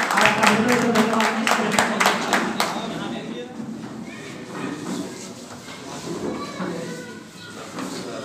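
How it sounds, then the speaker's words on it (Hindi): An audience claps to welcome a guest onto a stage, a burst of close, dense applause that fades after a few seconds into crowd murmur and someone speaking. "जोरदार तालियों से आपका स्वागत होना चाहिए"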